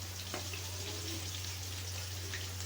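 Stuffed tinda (round gourd) frying in hot oil until golden brown on both sides, a soft steady sizzle with faint bubbling crackle throughout, close and fairly quiet beneath a low hum, no talking.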